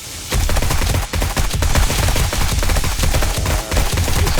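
Rapid, dense gunfire fired into the back of a demolisher zombie in 7 Days to Die (Alpha 20, Darkness Falls mod), loud and nearly continuous, with a few short gaps between bursts.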